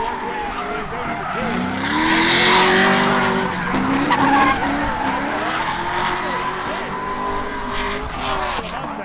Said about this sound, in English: Vitor in that Mustang trying to chase him down